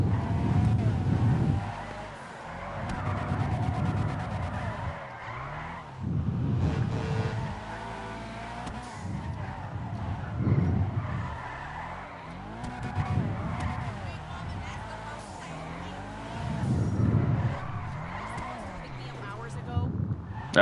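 A car drifting through a street spot in GTA Online, with repeated surges of revving engine and screeching tire squeal coming in bursts every few seconds, separated by short lulls.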